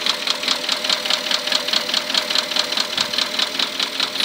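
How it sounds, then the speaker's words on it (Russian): A Porsche Cayenne 4.8 engine with a scored, damaged fifth cylinder runs with a steady, rapid metallic knock, evenly spaced ticks repeating over a constant mechanical hum, loud and close with no talking. "Стук двигателя вызван задирами пятого цилиндра."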